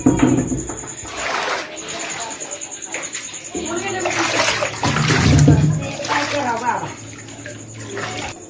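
Water splashes and sloshes as it is bailed out of a flooded house, with frequent splatters close by under ongoing talk from several people, including children's voices.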